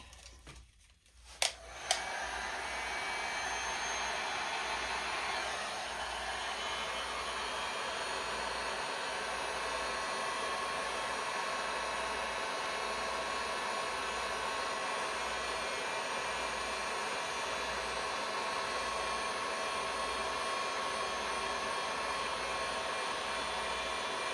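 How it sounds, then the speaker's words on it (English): A torch heats resin on a turtle-themed resin art piece. A couple of sharp clicks come first, then a steady, even hiss of flame runs unbroken for over twenty seconds, close and moderately quiet, with no talk. "let me take my torch, just heat it up a little bit"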